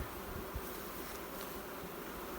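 Dense, steady buzzing of many honeybees close by, a continuous droning swarm with no voices.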